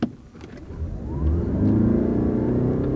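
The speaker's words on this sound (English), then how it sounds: "We'll see how much energy this four-cylinder engine with an electric motor boost has." Toyota hybrid four-cylinder engine with electric motor boost pulls hard under acceleration, a steady mid-frequency rumble rising in pitch and loudness from inside the car and holding strong to the end.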